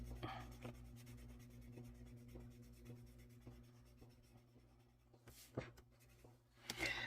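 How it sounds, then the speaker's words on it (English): Colored pencil, a Kalour set, shading lightly with no pressure on paper, giving a soft continuous scratchy rubbing that runs steadily and faintly, with a few louder strokes near the end. "I'm coloring very lightly anyway. I'm not putting any pressure on the pencil."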